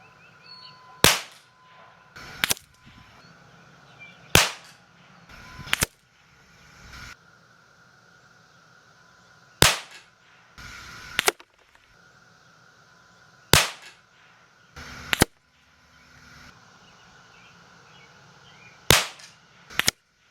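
Sharp, loud cracks from a Winchester 1977 .177 pump air rifle, about ten shots spaced irregularly, often in close pairs, with faint mechanical handling noise between them and no talking.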